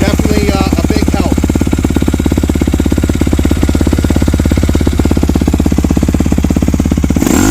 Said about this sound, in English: Now when this is decompressed, you can hear the idle jumps up a little bit.